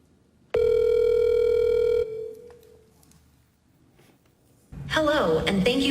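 A telephone call to customer service: a loud steady dial tone holds for about a second and a half, then fades into quiet line hiss before a recorded voice answers.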